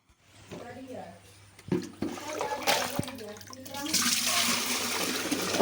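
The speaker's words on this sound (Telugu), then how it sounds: "వాటర్ వస్తున్నాయి నేనైతే వాటర్ పడుతున్నా" Water running from a tap in a Telangana village home in the early morning, a steady broadband splash that builds and grows louder toward the end, with a few knocks and a voice speaking over it.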